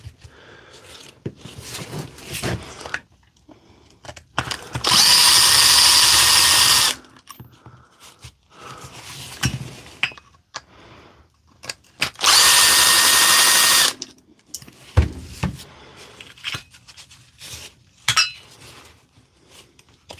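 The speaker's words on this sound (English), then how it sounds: "we'll pull the motor out to see" A power drill whirs in two loud, steady bursts of about two seconds each, backing out screws to pull a motor, with clinks and handling noises of metal parts in between.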